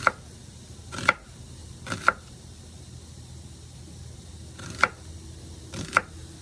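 A knife chops onions for a burger, caramelized onions in the making: a few sharp, isolated cutting knocks spaced a second or more apart against a quiet background.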